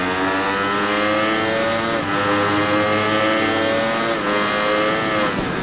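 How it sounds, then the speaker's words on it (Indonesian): Motorcycle engine in the racing video game Ride 3, revving loudly with a buzzing, harmonic-rich whine that rises and shifts pitch as the throttle is worked, steady and close throughout. "Kocok gasnya."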